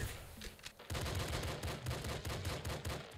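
Pistol gunfire in the video game Nuclear Throne, a rapid series of loud, punchy shots firing in quick rhythmic succession after a short pause, with no talking.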